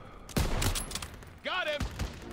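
Battle gunfire in Call of Duty: WWII crackles in dense, overlapping bursts. A shouted voice and a rising whistle-like tone cut through the continuous combat noise.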